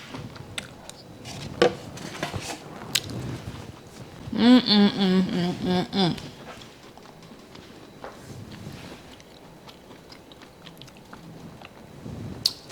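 Close, wet chewing and mouth sounds from someone eating a spoonful of chicken and vegetable soup, with irregular clicks and a short vocal hum of approval in the middle.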